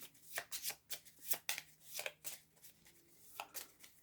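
Cards shuffled and drawn during a Shadowrun Crossfire card game: a steady run of close, crisp card snaps and riffles in quick bursts, nobody speaking over them.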